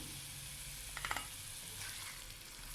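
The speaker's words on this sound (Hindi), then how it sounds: "अब ये हमने आलू अंडे को मसालों में अच्छी तरह से मिक्स करके भूना है" Potatoes and eggs frying with spices in a pan, a quiet steady sizzle with a brief cluster of light stirring clicks in the middle, close but faint, with no voices.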